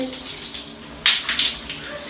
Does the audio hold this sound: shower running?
yes